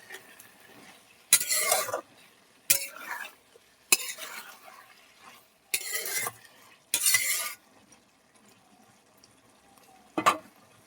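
A spoon scrapes and stirs beef and potato curry in a pan in several distinct bursts, each a loud, close rasp against the metal. Quiet gaps with a faint sizzle fall between the strokes.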